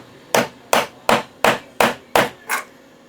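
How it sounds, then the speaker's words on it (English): A hammer strikes a threaded rod fitted with two nuts seven times in an even rhythm, each tap sharp and close, the last one slightly softer. "tap on it with my hammer"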